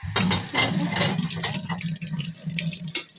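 A kitchen tap runs steadily while hands are washed underneath, a close continuous splashing rush of water with small fluctuations and no speech.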